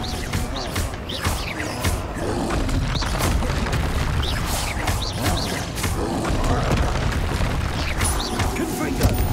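Repeated fiery blasts and booms from Confringo spells in Hogwarts Legacy, a dense, loud barrage of crackling impacts and rumbling explosions running continuously with no pauses.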